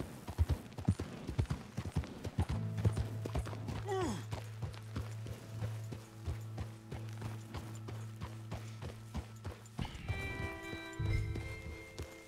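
Horse hooves clip-clop steadily while riding through a forest in Red Dead Redemption 2, a continuous rhythmic trot under soft game ambience and music tones, ending with a brief tonal change.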